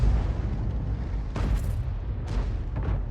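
Tank cannon fire in World of Tanks, an Object 261 artillery piece: a continuous low rumble with two sharp bursts standing out, one near the middle and one late, with no talking.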